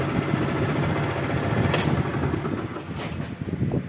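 A motorcycle engine, just back from a charging system repair, runs steadily at idle close by, with a constant even drone and no other sounds.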